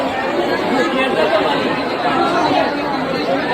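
Dense crowd chatter fills a packed temple during a visit to Kelba Devi's shrine, a steady, close wash of many overlapping voices with no pauses or single standout speaker.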